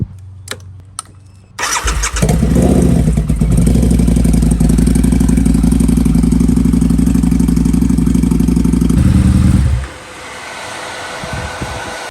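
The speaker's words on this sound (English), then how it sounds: "as you could probably hear there, the engine fan kicked on" A Harley-Davidson Night Rod (V-Rod, 2012 or later) motorcycle engine idles steadily, then its cooling fan whirs on with a loud constant roar for several seconds before cutting off abruptly.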